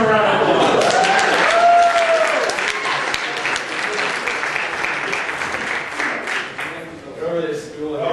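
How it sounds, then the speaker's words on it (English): A crowd applauds a stand-up comedian at a student improv comedy show, sustained clapping and cheering that fades slightly toward the end, with a voice talking over it. "Give him a round of applause."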